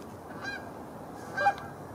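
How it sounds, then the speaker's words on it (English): Geese honk on a river during a duck hunt, a few distant calls followed by a louder, closer honk against a quiet background. "There are geese all over the place."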